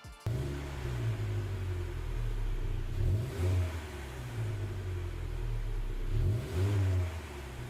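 A 2022-or-later Subaru WRX fitted with Japanese-market STI exhaust mufflers revs repeatedly, its steady low rumble rising in two sharp throttle blips, loud and close with no talking.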